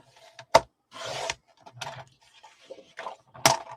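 Paper being cut in half at the 6 mark gives a few scattered dry rasps and crisp slicing swipes, close and intermittent, with sharp snaps near the start and end.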